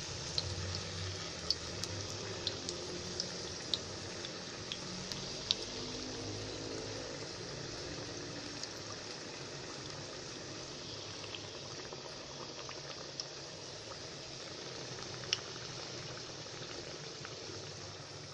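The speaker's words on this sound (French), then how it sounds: "Voilà mes pauvres frites chauffées." French fries frying in hot oil, a soft, steady bubbling sizzle with faint crackles, quiet and continuous with no talking.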